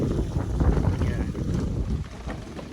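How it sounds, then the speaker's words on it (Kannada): Low, rumbling gusts of wind buffet the microphone close up, a continuous roaring whoosh that rises and falls, on an island in the Gili Islands, Indonesia. "ಆಚೆ ಕಡೆ ಫುಲ್ಲು ತಣ್ಣಗೆ ಗಾಳಿ ಹೊಡಿತಾ ಇದೆ."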